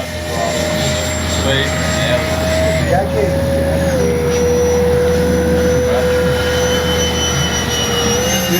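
An E-flite Habu XS 80mm RC ducted-fan jet flies a touch-and-go with flaps and retracts, giving a steady, loud whine that slowly drops in pitch, with a brief spoken word over it.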